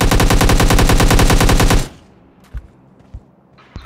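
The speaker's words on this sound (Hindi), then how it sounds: "जब भी भाई लोग खुश हो रहे हैं तो गोलियां चला करने शौक हो।" Rapid automatic gunfire in the video game PUBG, a loud, dense burst of shots lasting nearly two seconds before cutting off, followed by a few faint scattered thuds.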